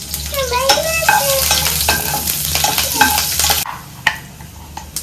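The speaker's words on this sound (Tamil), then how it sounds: "பாரு, தெரிக்குது பாரு. இப்போ வந்து கருவேப்பிலை போட்டிருக்கோம்." Curry leaves hiss and crackle in hot oil while being stirred, part of a noodle-cooking session; the loud, dense sizzle runs close and steady for several seconds, then drops away, leaving a few sharp spatters and utensil clinks.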